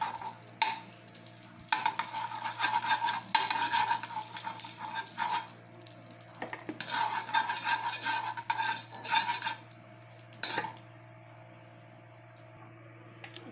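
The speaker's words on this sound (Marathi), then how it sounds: "या त्यामध्ये मी भोपळा हा परतून घेणार आहे." Grated pumpkin being sautéed in ghee in a kadhai for halwa, a soft sizzle and crackle under repeated scraping and stirring strokes, fairly quiet and close, easing off toward the end.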